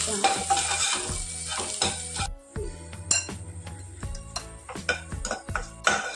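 Shallots and dried chillies being stirred in a pan, with a spoon clinking and scraping against the metal in quick irregular strokes over a soft sizzle, close up and with no talking.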